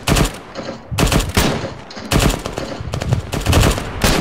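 Bursts of machine gun fire in the military shooter Arma 3, loud and close, coming in repeated sustained volleys with brief gaps between them.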